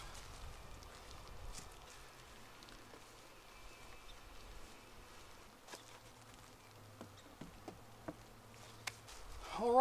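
Bees buzz faintly around a beehive fitted with a canvas hive pillow, a soft continuous hum with scattered close fly-bys and a few light taps near the end.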